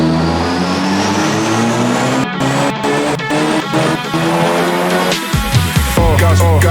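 A car strapped to a dyno runs loud and close, its engine note climbing steadily with brief dips like gear changes, then ending in choppy bursts as the run backs off.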